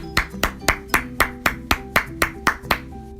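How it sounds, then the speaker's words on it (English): About ten evenly spaced hand claps in a steady rhythm, close and distinct over a faint background hum. "Let's do a round of applause."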